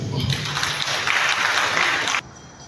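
An audience breaks into loud applause and acclamation at a public ceremony, a dense continuous roar of clapping that cuts off abruptly near the end.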